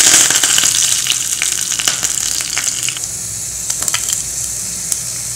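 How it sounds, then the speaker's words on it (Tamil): Cinnamon, cloves and curry leaves crackle in hot oil for a South Indian mutton kuzhambu, a loud, dense sizzle with quick pops that eases slightly partway through. "எண்ணெய் நல்லா காய வச்சுட்டு அதில் பட்டை கிராம்பு நல்லா போட்டாச்சு."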